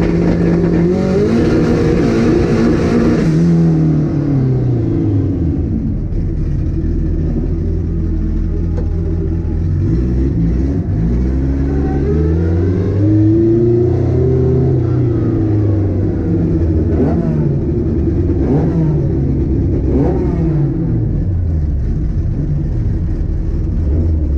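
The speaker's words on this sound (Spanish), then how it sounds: "salimos a pista, nos alineamos, largamos con cero de reacción y vamos acelerando a fondo" A quarter-mile drag race car launches and accelerates at full throttle, its engine roaring loud and close with rising pitch through repeated gear changes over a long, sustained run.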